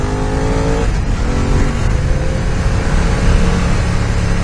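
A BMW F 900 R streetfighter motorcycle accelerates in traffic, its engine a loud, continuous roar with rising tone that stays close and dominant throughout.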